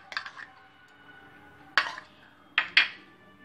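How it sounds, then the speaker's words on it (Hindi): An egg is cracked into a bowl for an omelette, giving a few sharp, close taps and clinks against the bowl, spaced apart with quiet between them. "पहले हमने जो अंडा लिया था उसे एक कटोरे में निकाल लेंगे तोड़कर"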